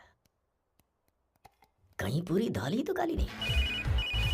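A telephone rings with a bright, repeating electronic warble in short pulses, starting partway through as someone talks, with a soft low hum underneath and faint clicks before the talking begins.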